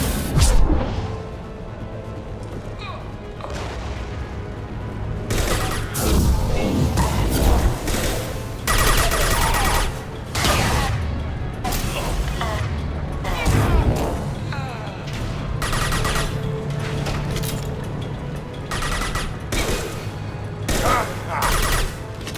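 Chaotic combat gunfire in Mass Effect 2, with bursts of automatic shots, impacts and thuds coming in waves over a sci-fi battle, and voices shouting intermittently.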